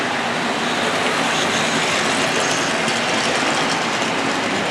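Eight model diesel locomotives from a British model railway run together on a layout, giving a steady, dense mechanical rumble and whir that fills the whole stretch with no pauses and no voices.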